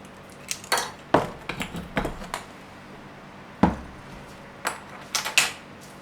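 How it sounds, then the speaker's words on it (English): A tablespoon stirs sugar into prepared beetroot to dissolve it, making scattered sharp metallic clinks and scrapes against the dish, close and fairly quiet, in irregular bursts with short pauses between. "So I'm just going to give that a good stir round to dissolve it"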